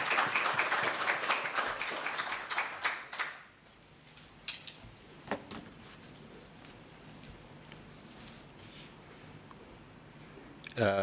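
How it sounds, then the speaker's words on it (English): An audience claps at a stock exchange listing ceremony, a dense burst of applause that fades within a few seconds, followed by scattered claps and quiet room noise. "Let's give him a big round of applause, ladies and gentlemen."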